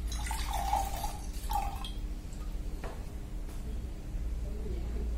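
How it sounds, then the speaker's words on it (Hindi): Fresh coconut water from a just-cut coconut trickles and drips into a glass, a soft uneven liquid pour close by, with brief voice sounds early on. "ग्लास में डाल देता हूँ पानी।"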